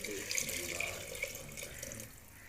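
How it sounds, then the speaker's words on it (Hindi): About two glasses of water splash into a pot of mung and masoor lentils in a home kitchen, a steady close pouring rush that continues throughout and eases slightly toward the end. "हम असी पानी ऐड करांगे जी"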